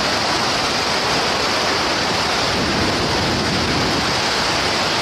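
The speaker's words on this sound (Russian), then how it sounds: "А вот так выглядели обычно спокойные и гостеприимные Змейковские водопады" The Zmeykovsky waterfalls near Sochi, swollen and flooded after prolonged rains, produce a loud, continuous roar of rushing water that fills the whole stretch without a break, with no voices.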